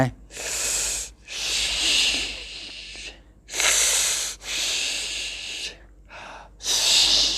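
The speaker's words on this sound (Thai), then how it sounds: "ให้ใช้ปากหายใจนั่นเอง" Breaths drawn in and out through the mouth as a quick way to ease asthma-like breathlessness, with several loud, airy bursts in an uneven rhythm and short pauses between them, close to the listener with no talking.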